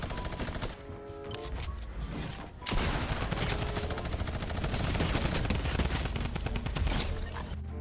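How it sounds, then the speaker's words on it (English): Gunfire in a battle-royale squads video game, rapid bursts of shots over a loud, busy mix of effects and music, with a brief lull before the firing intensifies and continues steadily. "who's shooting me?"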